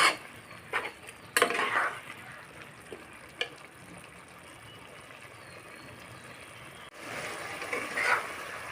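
Ash gourd with fish head and chopped coriander fries in a pan, a faint steady sizzle with occasional louder bursts of stirring and scraping, no voices.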